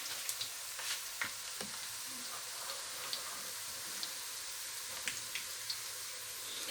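Chopped onions frying in hot oil in a pan while being cooked until golden, a steady close sizzle with occasional light ticks and stirring scrapes, no talking.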